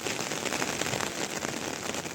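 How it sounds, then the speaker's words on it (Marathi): Heavy monsoon rain pours steadily during rice transplanting season near hills with waterfalls, a dense, unbroken roar of downpour close by with no voices. "फुल पाऊस"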